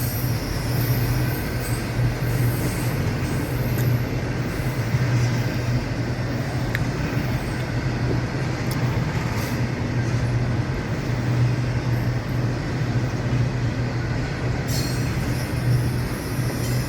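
A freight train of spine cars carrying highway trailers rolls past at a crossing in Folkston, Georgia, with a steady loud rumble of wheels and cars and a low constant hum, plus a brief squeal near the end.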